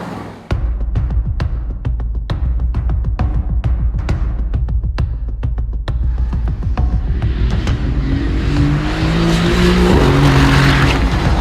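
A 2016 Mercedes-AMG GT S sports car drives out on country roads, its engine a loud, steady throbbing roar with sharp rhythmic pulses, rising in pitch and intensity as it accelerates toward the end, with no talking.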